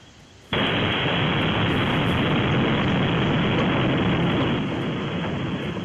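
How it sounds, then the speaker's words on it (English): A missile strikes a building in Beersheba, southern Israel: after a brief quiet, a sudden massive blast bursts into a loud, distorted, sustained roar that fills the rest of the clip without letting up. "This is the moment a missile hit a building in Beersheba in southern Israel"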